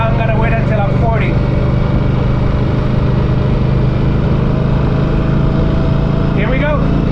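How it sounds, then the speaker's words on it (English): An Indian Scout Bobber motorcycle engine drones loud and strained at high revs while riding, a constant buzzing roar mixed with wind noise, with a rider's voice speaking over it at the start and end. "See how my engine is screaming?"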